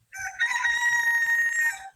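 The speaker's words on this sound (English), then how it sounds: "my chickens are currently going off" A backyard rooster lets out a single drawn-out crow, moderately loud and close, with nothing else heard around it.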